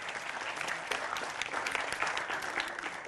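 Steady, dense applause from a studio audience at a Hindi televised political debate show, sustained and fairly loud throughout with no gaps or talk.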